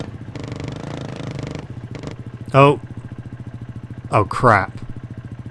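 A motocross bike engine in the video game Monster Energy Supercross 2 idles with a steady, throbbing, low putter and one brief rev, while someone speaks short exclamations over it.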